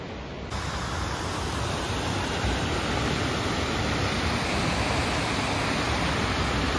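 Jog Falls waterfall roars as a dense, constant broadband rush of falling water, loud and close throughout, with no voices over it.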